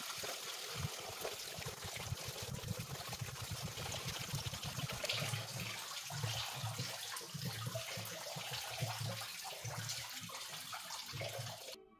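Coolant drains steadily from the radiator drain plug on a Mercedes M272 engine, a continuous splashing, trickling pour that stays fairly loud and even for the whole stretch with no talk over it.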